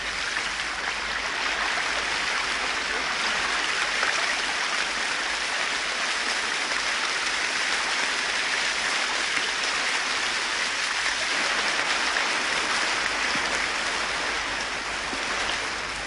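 Steady rain falls in the Amazon rainforest during the long rainy season, a dense, even hiss of countless drops that holds constant throughout with no voices.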